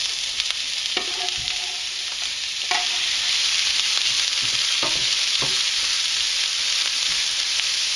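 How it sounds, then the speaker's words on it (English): Onions fry in a hot pan with a bright, steady sizzle that grows louder midway, punctuated by several sharp utensil knocks and stirring sounds, no voices. "Now let's get started on frying that up. So we have a nice hot pan. We'll add the onions to the"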